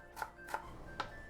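A kitchen knife mincing ginger on a cutting board, three crisp, fairly quiet taps spaced about a third to half a second apart against a faint background hum.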